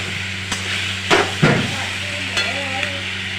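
Boiled eggs and potatoes are stir-fried in a spiced masala, with a spatula scraping and clacking against the pan in a few distinct strokes over a soft, continuous sizzle and a low background hum.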